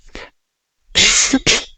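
A short throat sound followed by two sharp, forceful coughs close to the microphone, with brief silence between bursts; a cough brought on by cold weather.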